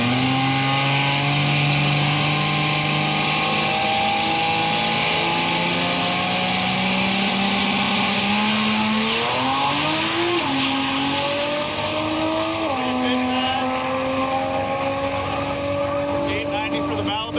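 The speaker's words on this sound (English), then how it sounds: "There's just something about the Mara that sounds so good." A race car with a Mara inline-six engine accelerates hard down a drag strip, its loud, rising engine note climbing through several gear shifts and fading slightly toward the end.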